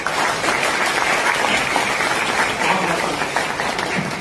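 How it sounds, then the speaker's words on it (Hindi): Audience applause fills an auditorium at an industrial company function, a steady dense wash of many hands clapping throughout, fairly loud with no talking over it. "संचालक मंडल के सदस्यों के लिए जबरदस्त तालियां बजाने का"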